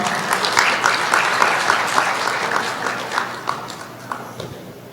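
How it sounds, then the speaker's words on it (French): Audience applause at a university graduation ceremony for foreign students in Bejaia, a steady mass of clapping filling the hall with a few louder individual claps standing out. "sous vos applaudissements"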